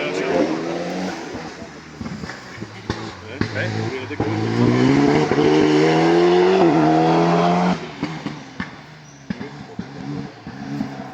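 Rally car, an Alpine, accelerating hard on the first special stage of the Rallye du Laragnais, engine note climbing as it revs through gears, with spectators talking nearby over the loud, rising roar.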